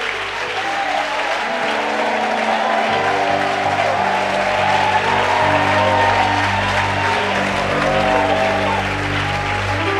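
A church congregation claps and cheers in sustained, loud applause that fills the room for the whole stretch, with voices mixed into the crowd noise.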